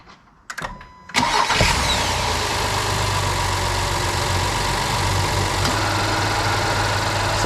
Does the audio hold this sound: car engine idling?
yes